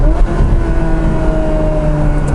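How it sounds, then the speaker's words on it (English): A Ferrari 360 with the F1 paddle-shift gearbox running on the road: a loud, close engine drone with steady harmonic tones and a brief rise near the start, heard from inside the car. "I love the blips that you get when you're coming down the gears."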